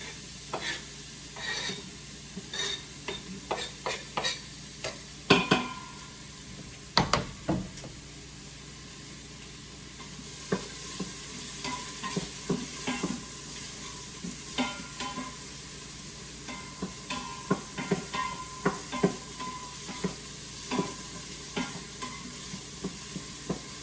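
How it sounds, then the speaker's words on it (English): Onions sizzle and crackle while sautéing in an Instant Pot, with repeated stirring scrapes and clicks throughout, steady and close. "You can already hear them starting to sizzle."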